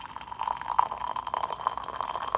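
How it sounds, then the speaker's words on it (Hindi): Hot water poured from a kettle into a cup, a continuous bright trickling and splashing stream with small drip-like accents, close and steady, with no voices. "पानी गर्म हो जाएगा जैसे ही तो मैं इस पानी को कप में डालूँगी।"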